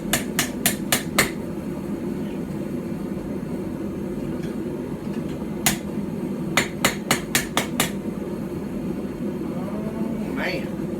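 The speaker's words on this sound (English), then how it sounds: "it feels pretty good hitting the bevels on it" A hammer strikes hot metal on a small Anglo-Saxon or Viking-style stump anvil. Sharp ringing blows come in quick bursts of four or five over a steady background roar, with pauses between the bursts.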